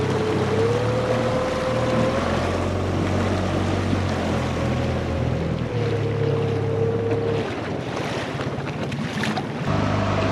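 A small outboard motor on a pocket catamaran drones steadily up close in a river through Mexican mangroves, its pitch wavering slightly, with wind and rushing water mixed in.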